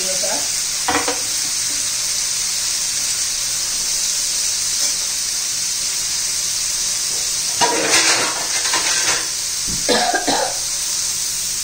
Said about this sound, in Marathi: हे पहा 2-3 मिनिटं चांगलं मी कारलं परतलंय।